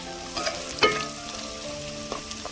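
Cooked, cooled rice is tipped into a hot cumin tempering for jeera rice, a soft steady sizzle with a few scraping stirs and clinks from the pan, without talk.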